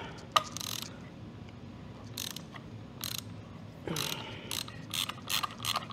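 A ratchet loosens the oil drain bolt on a 2024 Kawasaki Ninja ZX6R sport bike during an oil change. It gives several close, crisp bursts of rapid clicking separated by short pauses, with no talking.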